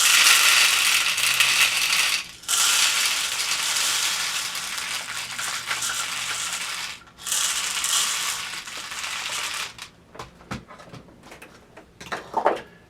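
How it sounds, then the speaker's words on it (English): Juggling-ball filling material pours through a funnel into an empty, dry bottle, making a steady granular hiss that runs on for several seconds, breaks briefly twice, then gives way to scattered clicks and rattles near the end. "pour your filling material using the funnel into your empty and dry bottle"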